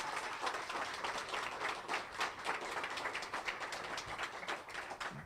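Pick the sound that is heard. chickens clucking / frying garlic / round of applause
round of applause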